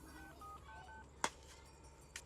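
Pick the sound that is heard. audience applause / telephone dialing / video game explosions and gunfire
telephone dialing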